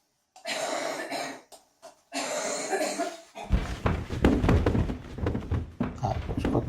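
Coughing from someone in the next room, a few separate bursts with gaps in between, then louder, denser thumps and knocks take over.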